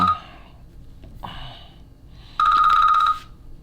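A telephone rings loud and close in distinct bursts, with a quiet gap between rings and a final long, bright ring.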